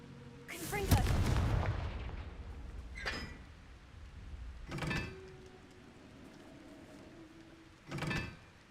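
Confringo blasting spells go off in the Hogwarts Legacy video game: a big fiery burst followed by three sharper, shorter blasts spaced a couple of seconds apart, with quiet hum between.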